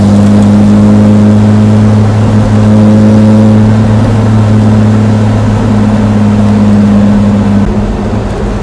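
A 1959 Austin-Healey 3000 classic sports car drones loud and steady from close by, its engine and lightly silenced exhaust holding a deep, even hum throughout.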